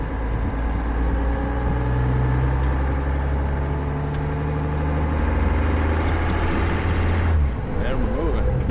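A 2020 Duramax 3.0 diesel truck engine runs steadily while towing in 4 high, a loud, close, continuous low rumble with a steady drone that cuts off near the end.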